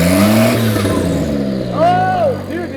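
A tiny blown turbo on a car engine spools up as the engine revs, its rising, sweeping whine climbing and falling over the engine note, close by, with people talking excitedly over it.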